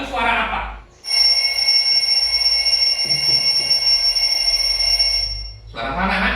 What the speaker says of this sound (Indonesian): Jam beker ya, alarm jam.